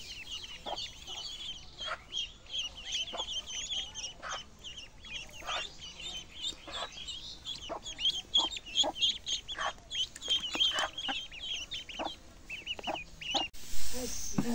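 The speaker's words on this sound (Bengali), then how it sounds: "এই যে হাঁসের বাচ্চাগুলো" Ducklings peep in rapid, overlapping high chirps through a home kitchen while spices are fried for dal, the calls steady and fairly close, with a brief louder burst near the end.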